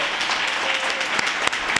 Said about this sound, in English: I'd like to give a final round of applause for our K-9